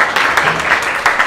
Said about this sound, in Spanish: Y otro aplauso para la Ciudad Creativa